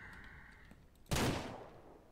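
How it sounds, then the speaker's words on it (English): A single loud gunshot from the video game Ranch Simulator cracks out after a quiet stretch, then decays with a lingering echo. "it's the pigs that are afraid of the gunshots"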